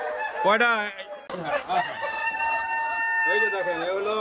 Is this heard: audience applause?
no